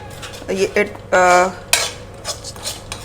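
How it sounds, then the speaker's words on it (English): Spices, onion and chillies fried on a high flame: a spoon clangs and scrapes against a metal pan, with a couple of ringing metallic hits and short stirring scrapes over a faint background, all close. "So on the high flame I will fry it."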